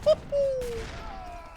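Heavy cannons firing during a battle in a strategy video game, a sharp blast at the start followed by a rumble and falling whistling tones, then another fainter report trailing off.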